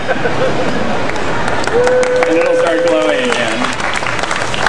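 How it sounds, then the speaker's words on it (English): An audience applauds during a demonstration of conducting glass, a steady loud clapping wash with crowd murmur throughout as someone speaks over it and another voice is heard. "Clap for Tinkerbell."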